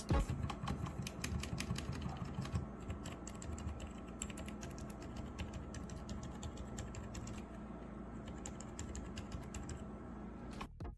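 Fast, steady typing on a Royal Kludge RK84 mechanical keyboard fitted with under-PCB foam, with a dense continuous patter of close keystrokes and no talking.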